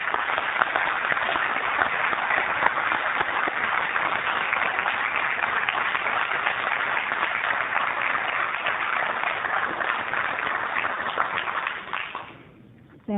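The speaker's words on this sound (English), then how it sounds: "ask everyone here that's in support of this project to either stand up or you give a round of applause" Sustained audience applause at a city council meeting, steady and dense from many hands, filling the room at an even level before tapering off near the end.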